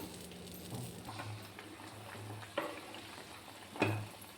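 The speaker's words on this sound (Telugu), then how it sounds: "ఫుల్ బాయిల్ అవుతుందండి వాటర్." Water for vegetable masala rice is at a full boil in a covered pot, giving a steady soft bubbling hiss with a couple of sharp clicks near the end. No voices are present.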